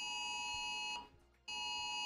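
A loud electronic alarm blares with a steady high-pitched tone, cuts out briefly for about half a second, then resumes just as loud, heard close with nothing else over it.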